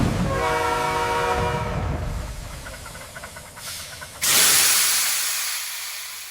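A cartoon train in a children's Christmas story rumbles along with a drawn-out horn tone, its rolling noise fading before a sudden loud burst of hissing steam, with no voices.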